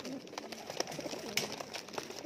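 Teddy pigeons coo softly nearby, with a few low, rolling calls and light rustling sounds in a quiet space.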